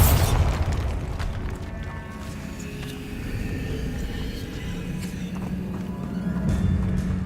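A Bombarda explosion spell goes off in Hogwarts Legacy, with a sharp blast at the start that settles into a low rumbling wash of game ambience.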